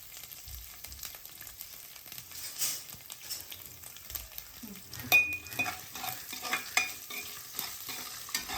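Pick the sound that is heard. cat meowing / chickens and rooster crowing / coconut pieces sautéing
coconut pieces sautéing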